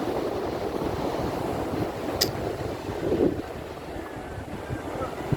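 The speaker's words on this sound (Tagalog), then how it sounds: "Lalaking alon." Big ocean waves at a beach in Guam, a continuous wash of surf mixed with heavy wind buffeting the microphone, fairly close and steady.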